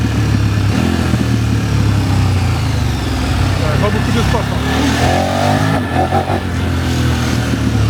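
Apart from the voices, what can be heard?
KTM 1290 Adventure S motorcycle engine downshifting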